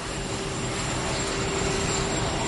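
The US presidential jet sits on the ground at Ford International Airport, its jet engines giving off a loud, steady roar and high whine with no break.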